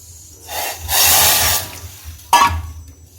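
Hot water poured from a container into a cup over a tea bag, a short pouring splash followed by a brief louder splash or clink near the end, close up, with no talking.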